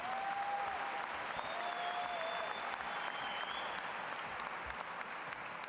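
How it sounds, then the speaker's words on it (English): A large audience at a 2023 high school graduation ceremony gives a sustained, even round of applause heard from a distance, with a couple of faint whistles rising above it. "How about a round of applause for all our speakers tonight for their senior addresses?"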